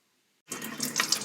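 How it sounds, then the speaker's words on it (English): Cold tap water gushes steadily into a metal sieve holding tomato seeds, starting abruptly after a short silence and continuing as a close, even splashing rush. "I'm rinsing my tomato seeds thoroughly under the tap to make sure that all the pulp is removed"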